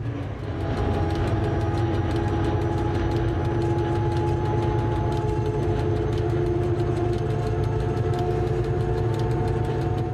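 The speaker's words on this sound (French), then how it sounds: "le train va retrouver la plaine et reprendre de la vitesse" An ONCF CC 72000 diesel locomotive accelerates across open plain, its engine droning loudly with a deep steady rumble and sustained tonal hum, wheels clattering constantly underneath, heard close and without pause.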